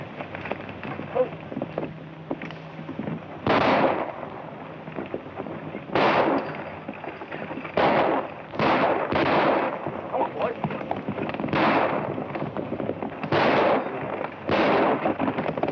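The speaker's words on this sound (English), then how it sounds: "I want you to fire over their heads." About ten sharp gunshot bursts crack out over people's heads at irregular intervals, loud against a quieter rustling background, in a 1935 film.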